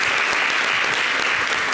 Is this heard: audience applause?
yes